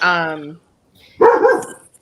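A dog whines in a drawn-out tone, then after a short pause a couple of sharp, close barks ring out.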